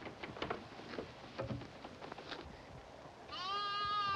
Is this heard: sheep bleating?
yes